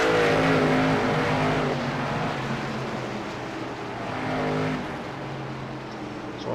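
Race cars lapping the track at Lucas Oil Raceway, engines loud and close at first and then droning past, with a second rising surge of engine noise before fading to a steady roar.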